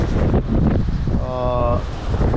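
Strong wind buffets a sailboat under way at six to seven knots, a steady rough roar with water noise, while a voice talks and a brief tonal whine rises midway.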